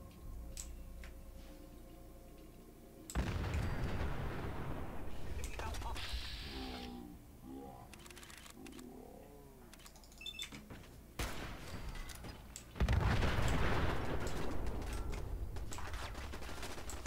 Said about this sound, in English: there's turrets shooting you